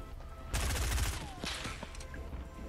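A quick burst of rapid gunfire in the video game Fortnite, a loud rattling volley followed by a few scattered single shots and small impacts, all packed into a couple of seconds with no talking.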